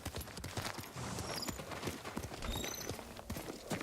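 Horse hooves clip-clop in a quick, uneven rhythm of faint, distant knocks, with a light wash of background noise.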